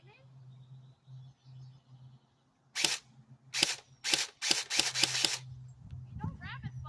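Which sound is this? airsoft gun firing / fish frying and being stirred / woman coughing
airsoft gun firing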